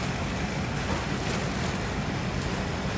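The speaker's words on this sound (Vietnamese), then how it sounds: "chiếc ghe mạnh của Bình Thuận phía sau cũng ra khơi các bạn ơi" A fishing boat from Binh Thuan heads out to sea, with a steady wash of waves and wind roaring across the microphone throughout. No talk is heard.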